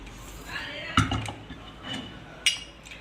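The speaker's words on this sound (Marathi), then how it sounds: "कढई ठेवली मी." A metal kadai (wok) is set down on a home kitchen stove while dal tadka is being cooked. It lands with a sharp clank, followed by a softer knock a moment later against a quiet background.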